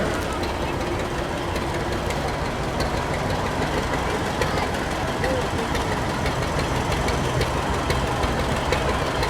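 A 1957 John Deere 20 tractor in a town parade, its engine idling and chugging with a steady low rumble, continuous and moderately close, while a voice talks over it.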